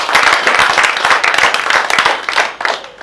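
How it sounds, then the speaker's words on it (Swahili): A church congregation claps together for Jesus during a Thursday prophetic service, a dense, loud, close wall of rapid hand claps that continues steadily throughout. "Piga makofi kwa Yesu."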